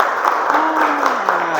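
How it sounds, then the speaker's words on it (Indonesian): Workshop audience breaks into steady, dense applause after a student suggests the spark plug is dirty, loud and close, with a voice or two over the clapping. "Oke, tepuk tangan."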